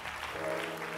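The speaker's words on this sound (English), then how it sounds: "Clap those hands." A church congregation claps and sings during an altar call at Bethel, a dense, steady wash of hands and voices filling the hall.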